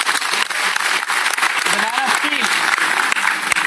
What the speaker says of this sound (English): if you like, you can clap